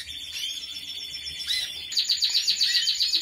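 Four hungry young birds chirp insistently in a breeding cage beside their mother, a steady stream of high, overlapping begging calls that grows louder and denser toward the end.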